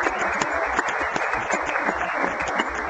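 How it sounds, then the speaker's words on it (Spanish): Sustained audience applause for a boxing world champion in a televised studio setting, dense steady clapping filling the whole stretch, loud and close without a break. "Ese aplauso."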